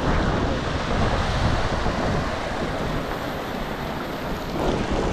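A mountain stream at the Ourika waterfalls near Marrakech, Morocco, rushes beside a walking path in a steady, loud, broadband wash with no pauses. No talk is heard.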